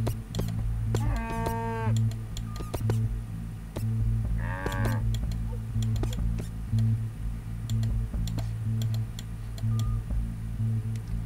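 Cartoonish cows in the golf parody game What The Golf give two drawn-out moos a few seconds apart over a looping, ticking game soundtrack.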